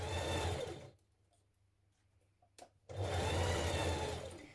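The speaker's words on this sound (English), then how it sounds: "we're going to stitch that in place" Sewing machine stitching a sleeve into a 1970s vintage wrap dress, a steady close motor whir that stops for about two seconds with a faint click, then resumes.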